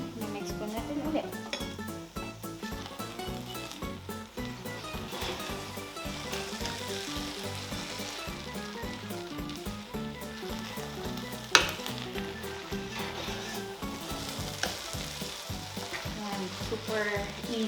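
Filipino Arroz Valenciana rice mixture is stirred in a hot pan, a continuous crackling sizzle with scraping motions and one sharp clink, while a person talks over it.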